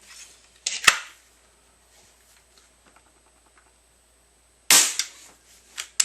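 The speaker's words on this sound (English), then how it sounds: "I'm going to go ahead and fire the shot that's in it." An air rifle, a Benjamin 392 pump model, fires once with a sharp crack near the one-second mark, then quiet, and a second louder blast near five seconds, probably an empty dry shot, followed by faint handling clicks.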